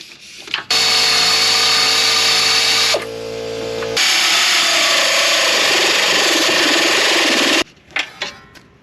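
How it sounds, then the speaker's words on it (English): An air ratchet whirs loudly and steadily in long bursts, with a brief change in pitch between them, as it backs out 16mm bolts holding down a bracket during a sway bar bushing replacement on an SUV. Clunks of metal follow. "Take off those two 16mm bolts that hold down that bracket. I'm going to use an air ratchet"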